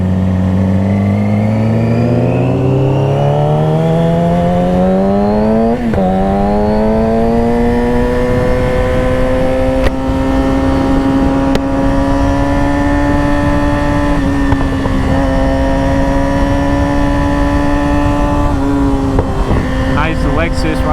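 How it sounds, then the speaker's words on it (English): Cars pulling up at a car meet, one engine revving steadily upward in pitch and then holding a loud, close, rough drone for about twenty seconds, with a few short sharp clicks on top. "yeah, we got some cars pulling up"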